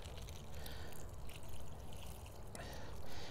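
Water poured from an old milk container onto stacked plants trickles and drains down through the tiers, a soft, steady splashing dribble heard fairly close.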